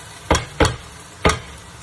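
Onions fry in oil while being stirred until browned dark for Pakistani chicken biryani: a soft steady sizzle underlies three sharp, close scraping strokes of a spoon against the pan.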